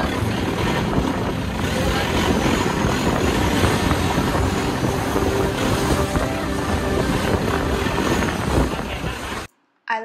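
A boat pushes through rough sea near Koh Samui, Thailand, with waves slapping and wind buffeting loudly and continuously before the sound cuts out abruptly at the end.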